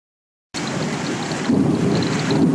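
Steady rain pours down with rumbling thunder beneath it during a Louisiana storm, heard from a porch; the downpour is loud, continuous and close, swelling slightly partway through.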